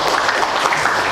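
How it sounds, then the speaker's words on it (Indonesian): Audience applause at a school poetry-reading session, a dense, steady patter of clapping heard close and fairly loud for about a second, with no talk over it. "Oke, tepuk tangan."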